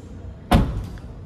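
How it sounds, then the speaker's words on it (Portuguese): A Chevrolet Onix RS 2024 trunk lid pulled down and shut, giving one solid close thud followed by a brief fading rattle, near and alone. "Aqui você puxa para baixar o porta-malas"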